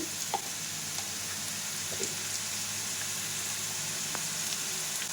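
Garlic, dried red chillies, asafoetida, mustard, cumin and chana dal frying in oil, a steady soft sizzle with scattered small pops and light stirring, no talk.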